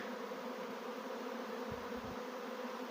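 A honeybee swarm moving from a trap into a hive gives off a steady, close buzzing hum that carries evenly through the whole stretch, with a couple of soft low bumps partway through and no talking.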